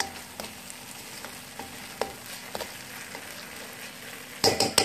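Tomatoes frying in a pan for daal mash, a steady soft sizzle with occasional scrapes of stirring, then a louder clatter near the end.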